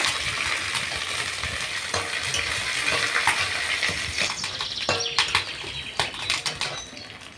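Ginger sizzles in hot oil with cumin seeds in a home kitchen, a steady dense crackle with brief sharper pops and stirring clinks near the end.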